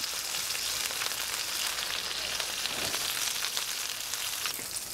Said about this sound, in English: pan is nice and hot, so we're gonna go ahead and sear that salmon